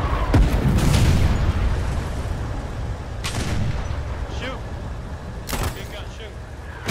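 Heavy artillery fires in the Foxhole war game: several deep booms spaced seconds apart, each with a sharp crack and a rolling tail, over continuous battlefield rumble and someone talking.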